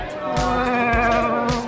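A person imitates Chewbacca's growling howl, and it comes out as a wavering, bleating goat-like cry. The voice is loud and close, sustained over about two seconds with pulsing pitch.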